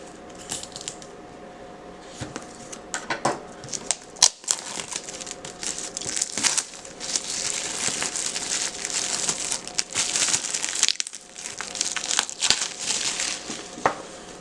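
Packaging of a Bold N1 smartphone box crinkles and rustles as it is opened, with irregular crackling bursts and sharp taps throughout, close and fairly quiet.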